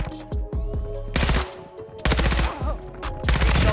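Gunfire in Modern Warfare 2, loud close automatic bursts with rapid regular shots, broken by brief gaps and several fresh volleys, over a faint steady game background.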